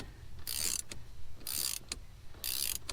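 A ratchet wrench with a 13/16 socket works loose the steering wheel nut on a GMC Sierra, giving three short bursts of rapid clicking separated by brief pauses, faint and close with no talking.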